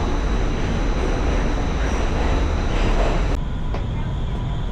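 A New York subway train on a quiet, nearly empty morning ride, giving a loud, steady rumbling roar with a high whine, interrupted briefly by a clunk near the end.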